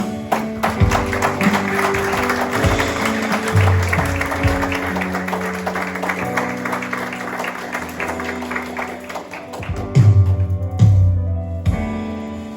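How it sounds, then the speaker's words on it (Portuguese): A church congregation claps together after a prayer, a steady wash of applause running throughout with some low musical tones and a few louder bursts near the end. "Vamos aplaudir ao Senhor"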